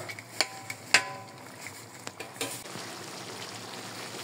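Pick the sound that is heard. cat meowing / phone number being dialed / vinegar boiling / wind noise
vinegar boiling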